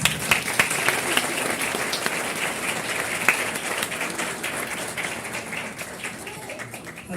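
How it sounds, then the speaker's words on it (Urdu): A church congregation breaks into sustained applause during a sermon, a dense wash of many hands clapping that carries steadily for several seconds before easing slightly toward the end, with no speech over it. "اپنی تالیوں کی گونج میں بتائیں"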